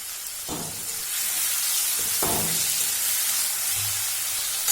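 Chopped tomatoes and salt sizzling in a pan of green beans, a steady frying hiss with a couple of sharp bursts as ingredients hit the hot oil.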